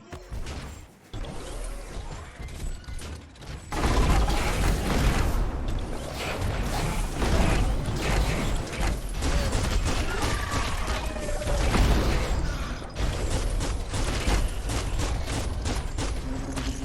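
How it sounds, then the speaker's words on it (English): Metal gears grind in the action game Biomutant, a dense, loud clattering and scraping mechanical churn that kicks in after a few seconds and keeps going in uneven bursts. "Grind those metal gears."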